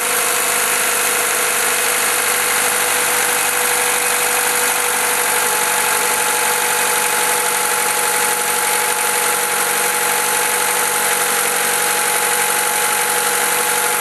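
A 1991 Honda Accord engine runs fast at a steady high idle after a distributor swap, a constant close mechanical drone with a faint squeal. It continues unbroken with no talking.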